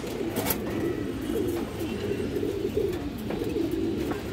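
Pigeons, including high-flyer breeds, coo repeatedly in low throaty rolls while being held and shown, close up over a steady loud background of many birds.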